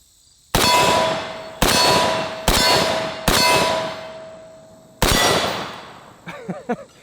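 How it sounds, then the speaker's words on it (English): Rounds of 7.62x39 AK ammunition strike a hanging steel gong target, giving five sharp metallic clangs that ring and decay, four in fairly quick succession and one after a short gap, with faint clinks trailing at the end. "That white gong was just barely hanging onto that chain."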